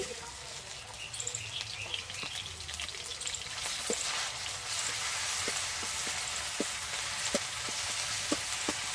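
Onion, garlic and spices fry in mustard oil while a chicken curry is cooked, with a steady close sizzle throughout and sharp little ticks and pops from stirring.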